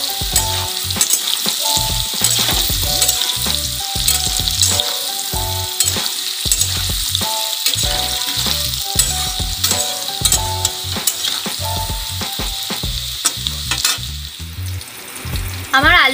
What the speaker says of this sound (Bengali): আমার আলুগুলো লাল লাল করে ভাজা হয়ে গেছে।